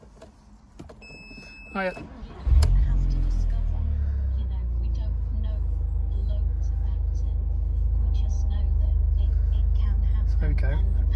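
An Audi TT with about 45,500 miles cranks briefly and fires, then settles into a steady, smooth idle heard close up after a short spoken greeting.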